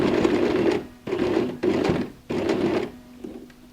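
A sewing machine stitches over the seam line of a handmade pyramid-style handbag, running in four short bursts with brief pauses between them, close and steady.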